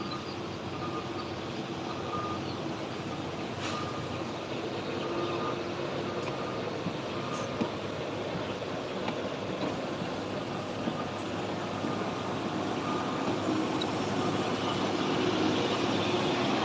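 A Canter truck with AD plates climbs the mountain road at Sitinjau Lauik in the morning, its engine a steady, moderately distant drone that builds slightly over time amid constant road noise.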